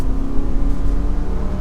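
A 2025 Subaru Forester Touring accelerates gently, with close, steady engine hum and road noise rising slightly over under two seconds and no talking.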